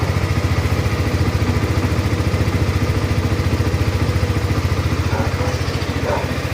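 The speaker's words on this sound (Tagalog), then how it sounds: "Kung mapapansin nyo yung tunog ng makina nya." A motorcycle that has sat unused in storage idles after starting, its engine thumping in a fast, steady, slightly rough rhythm with some mechanical clatter, close and continuous.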